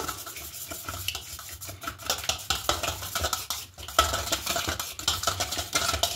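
Tomato paratha ingredients are worked together by hand with salt and white oil in a bowl, giving soft, continuous squelching and rubbing with occasional light clinks, moderately close and without talk.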